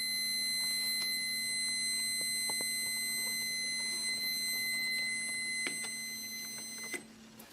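A high-pitched electronic alarm from a Testo 317-3 carbon monoxide meter sounds continuously and steadily, close by, with faint clicks and handling noises near the end.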